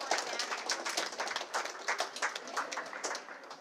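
Audience applause at a humanities academy lunch-and-learn gathering, a moderate crowd clapping in a quick, uneven patter that rises and falls in intensity over a few seconds, fairly close and without talk over it.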